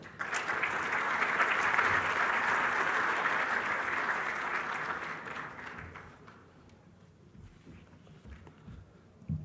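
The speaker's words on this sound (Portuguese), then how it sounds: "peço uma salva de aplausos ao Luiz Lopes" Audience applause at a Brazil investment conference on stage, a dense wash of clapping that swells and holds for several seconds, then thins and fades out, leaving quieter room noise.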